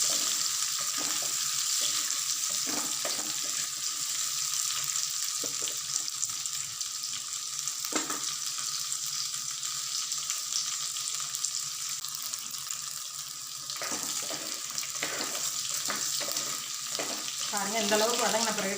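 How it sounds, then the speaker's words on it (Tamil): Ingredients for a South Indian country chicken curry sauté in a pan with a steady, bright sizzle throughout, broken by scraping stirs and brief clatters, with no voices. "நல்லா பச்சை ஸ்மெல் போகிற அளவுக்கு நல்லா வதக்குங்க."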